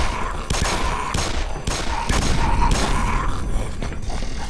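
Gunfire from the video game Black Mesa Source, a series of sharp, loud shots in irregular bursts with mechanical clanks between them.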